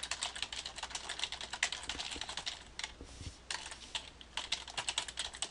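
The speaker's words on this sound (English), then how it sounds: "I'm just typing in some information" Fast, continuous typing on a computer keyboard, dense rapid key clicks with short pauses, close and clear with no voices.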